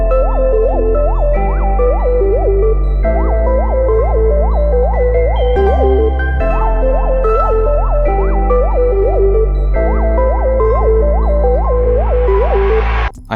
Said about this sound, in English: with the melodies, the sub bass sounds like this